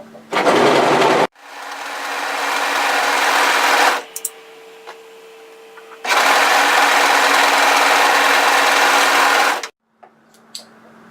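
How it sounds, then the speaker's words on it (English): An overlocker sewing along a raw fabric edge runs in loud bursts of rapid mechanical whirring: a short run, a longer stretch, a pause with small clicks, then another long run before it stops, with no talk. "we're going to start off by overlocking the edge"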